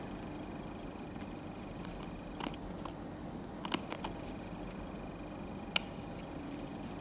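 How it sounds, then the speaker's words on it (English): Surgical scissors cutting a suture knot, a couple of faint, sharp snips against a quiet background. "Now we will cut"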